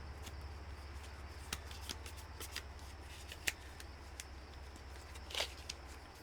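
Quiet, close-up card shuffling, with soft riffling and scattered light snaps and taps of the cards.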